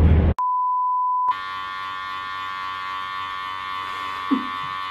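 A steady electronic censor beep tone lasting about a second, followed by a low background hum and faint room noise.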